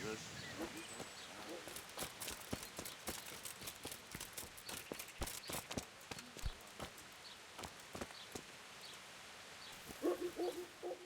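Horse hooves clopping in the Kingdom Come: Deliverance video game, a steady run of sharp, close clip-clop impacts, with a brief burst of a voice near the end.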